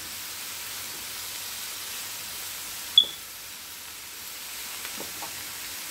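Vegetables sauté in a pan with a steady soft sizzle and hiss, broken by one brief sharp tick midway.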